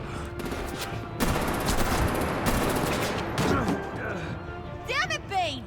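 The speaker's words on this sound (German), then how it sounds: "Die schießen auf ihn, ne?" Gunfire in Batman – The Enemy Within, a dense volley of shots and crashing impacts running nearly throughout, loud and close, with game voices talking over it.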